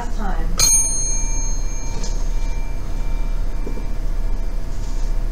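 A single bell strikes once, clear and close, with a bright ringing tone that fades slowly over a steady low hum.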